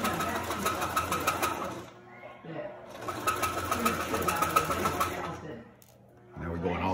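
Sewing machine stitching a fabric mask in quick bursts of rapid, even needle clatter, stopping and restarting, with a person talking close by between and over the runs.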